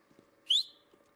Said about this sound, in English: Hang on, I'm gonna whistle.